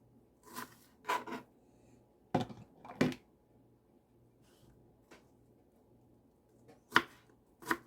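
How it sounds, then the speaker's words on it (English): A knife chops ingredients on a board while Mexican-style hot dogs are made, giving scattered sharp cuts in small clusters of two or three over a quiet kitchen background with a faint low hum. "this is how I'm just going to chop it"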